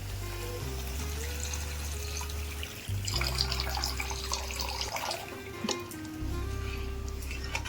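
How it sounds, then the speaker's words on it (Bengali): Water pours into a mustard-poppy paste curry of small fish cooking in a pan, a steady close splashing stream over a low hum that briefly thins partway through. "অ্যাড করছি সামান্য পরিমাণে জল।"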